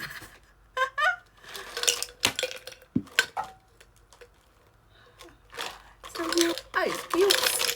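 Ice cubes clatter into a glass while an iced Spanish latte is made. Several bright, separate clinks and knocks are heard close up, with a voice talking in between.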